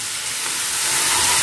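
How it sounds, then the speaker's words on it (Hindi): A loud, hissing sizzle rises close by as water hits frying spices in a hot pan, growing stronger over a second and a half. "थोड़ा सा मैं इसमें पानी डालूंगी ताकि मसाले हैं वो जले नहीं।"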